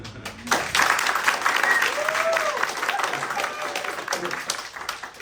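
A startup masterclass audience breaks into a round of applause, loud and sustained at first, then thinning slightly while clapping continues for several seconds, with a few faint voices mixed in.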